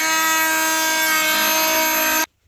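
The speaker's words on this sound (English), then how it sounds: "Now we have the Milwaukee nitrous carbide versus plain 2x4." A multitool fitted with a Milwaukee Nitrous carbide blade buzzes steadily through a plain 2x4, a loud, even oscillating drone with a tonal whine that cuts off abruptly near the end.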